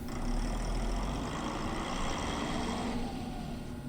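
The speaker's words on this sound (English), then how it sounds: "Oh my god, you got a big friggin' semi-truck." A big semi-truck in a video game rumbles at a steady idle, its deep engine drone close and constant, easing slightly near the end as it begins to pull away.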